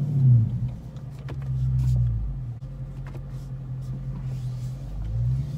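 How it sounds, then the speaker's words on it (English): A car passing by outdoors, heard as a low engine rumble that swells, eases, then builds again as the vehicle moves past at close range. "let me let this car pass by"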